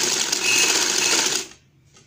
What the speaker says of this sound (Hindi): इसके ऊपर मेहरून पट्टी पे मैं सिलाई चलाऊंगी